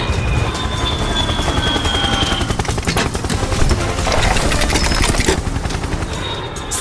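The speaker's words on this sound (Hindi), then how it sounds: "हवा में लाल हेलीकॉप्टर गूंज" A red cartoon helicopter rumbles loudly and continuously, its rotor chopping in a dense, steady drone with no pauses or voices.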